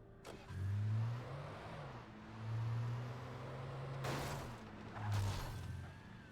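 Engine of a car driven in the Alan Wake video game, a low humming drone that swells in repeated revving surges, with a couple of sharp bursts of noise partway through and no talk.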